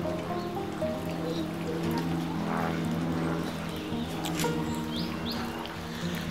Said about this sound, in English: That's the pond filling up.